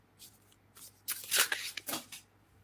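Tarot cards are shuffled in several quick, close riffling bursts that rise to a loud flurry in the middle, then fade.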